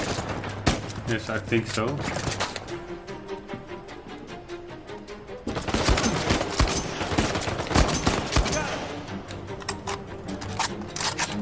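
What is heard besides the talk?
gunfire in the video game Uncharted 4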